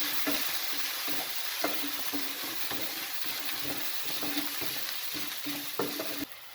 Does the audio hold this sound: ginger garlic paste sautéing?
yes